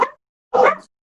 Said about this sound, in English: Who let the dogs in?